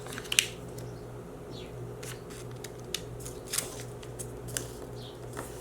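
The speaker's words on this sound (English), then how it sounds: "So we're going to fold it up," Origami paper being folded and creased by hand for a paper ice pop, a few crisp papery snaps and rustles over a steady low hum, no talking.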